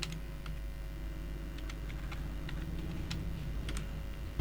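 Keys tapped on a computer keyboard while a password is entered, a run of light, irregular clicks close by over a steady low room hum.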